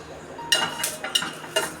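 Garlic and onion stirred in a cooking pan for veg soup, three sharp metallic scrapes and clinks after a quiet start, close and with no talk.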